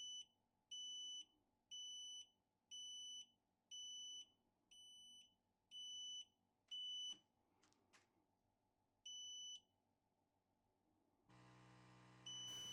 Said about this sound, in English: Then it will start beeping and flashing while the update process is running.